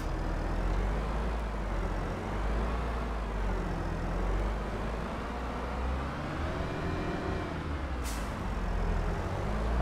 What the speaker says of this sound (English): let's get in the tractor and drive it off.